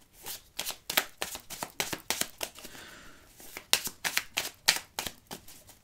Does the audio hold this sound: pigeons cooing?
no